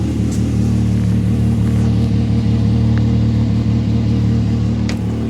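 A Can-Am X3 side-by-side's engine warming up at idle, a loud, close, steady rumbling drone that holds an even pitch throughout with no talking.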